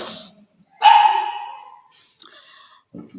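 Dogs bark during a household morning routine: one loud, drawn-out burst of barking close by, followed by a few short, fainter yips.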